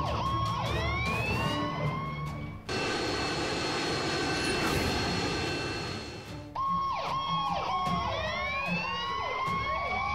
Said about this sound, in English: Here comes the plane now. I can see its left engine. It's on fire.